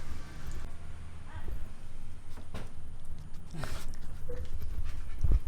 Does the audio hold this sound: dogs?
yes